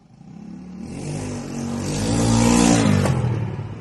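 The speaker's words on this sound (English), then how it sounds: "I guess I got somebody who's testing his bike out" A motorbike engine revs on a city street, rising and swelling in pitch over a few seconds before easing off, fairly close and loud with no talk over it.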